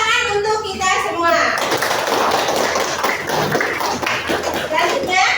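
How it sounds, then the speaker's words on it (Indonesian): A group of students in a guidance-and-counselling class claps their hands together, a burst of close, busy clapping that follows a short stretch of speech. "Ya, tepuk tangan untuk kita semua."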